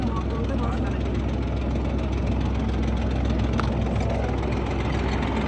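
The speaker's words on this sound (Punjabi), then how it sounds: "ਇਹ ਹੈਗਾ ਹੁਣ ਦਵਾਬੇ ਦਾ ਟਰੈਕਟਰ" A steady, low engine rumble idles continuously without changing pace, close by and fairly loud.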